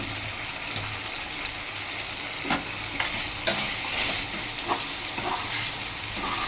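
Chicken and egg are stirred in a sizzling frying pan, with a steady frying hiss broken by scattered scrapes and clacks of the utensil against the pan, close and alone.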